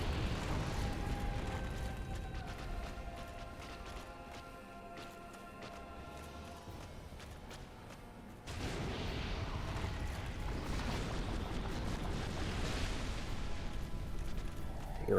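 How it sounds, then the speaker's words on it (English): Explosion beside lava in the video game Dark Souls Remastered: low mechanical rumbling gives way to a sudden louder, sustained roaring blast that continues to the end, with no talk. "there's the explosion"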